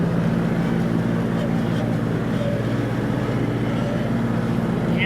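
A lawn tractor with its mower deck engaged cuts grass while steering hard left into a circle, its engine droning steadily and moderately close, with a faint voice at moments.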